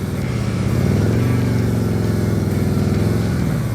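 A motorcycle engine running steadily with the throttle held up during a practice session, a close, continuous buzzing drone that rises slightly in pitch midway, with no speech over it.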